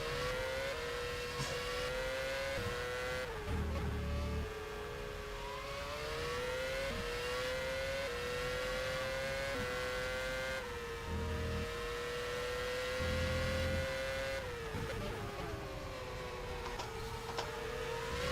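Open-wheel race cars in an rFactor sim racing game at the Malaysian Grand Prix, engines whining loud and continuous as they accelerate, shift and rise and fall in pitch through corners while lapping a backmarker.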